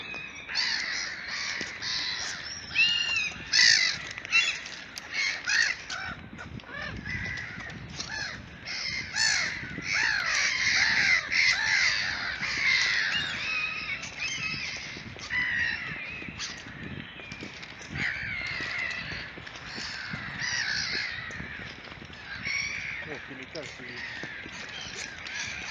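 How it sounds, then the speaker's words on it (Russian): Seagulls squawk and scrap nonstop over a riverside embankment in Pskov while chasing ducks during bird feeding. Dense, overlapping harsh calls stay loud and close throughout, with people talking faintly underneath. "Чайки оборзели."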